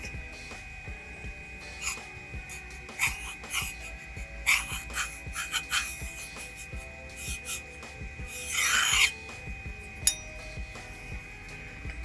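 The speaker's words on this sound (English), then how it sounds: "I have a center scribe tool set at 1/8" A center scribe tool set at 1/8 inch drags along the edge of a steel chef knife blank, producing close, short scratchy rasps in separate strokes over a faint steady hum.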